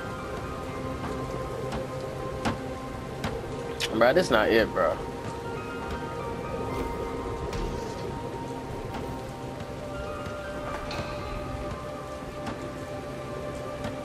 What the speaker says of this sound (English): Why the fuck it rain all of a sudden?